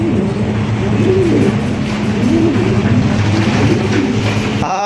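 Large fancy pigeons coo repeatedly in a low, throaty, rolling rhythm, close and loud, with several birds overlapping and faint background noise beneath.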